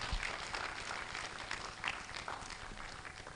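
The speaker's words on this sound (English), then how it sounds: "Please, can we give them a round of applause?" A round of applause at a conference closing ceremony, steady, moderately faint clapping from the audience.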